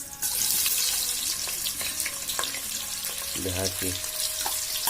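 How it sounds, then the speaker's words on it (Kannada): Chopped onions fry in hot oil with a bay leaf for a fenugreek pulao, giving a steady, close sizzling hiss throughout, with a voice speaking briefly over it. "ಗೋಲ್ಡನ್ ಬ್ರೌನ್ ಕಲರ್ ಬರೋ ತನಕ ಫ್ರೈ ಮಾಡ್ಕೊಂಡಿದ್ದೀನಿ"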